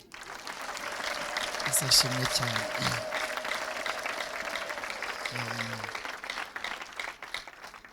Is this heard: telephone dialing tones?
no